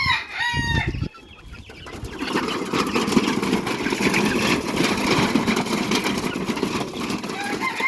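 Chickens cluck close by on an open rooftop farm over a steady engine hum, with a brief crowing call near the start.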